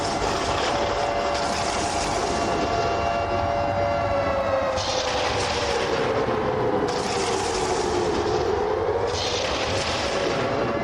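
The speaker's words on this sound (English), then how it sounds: "Let the siren play again." A siren sounds over a crowd's steady roar at an indoor football game, its long tone sliding slowly down and back up across the stretch while the crowd keeps up a loud, continuous wash.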